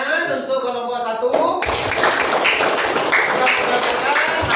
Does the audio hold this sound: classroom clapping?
yes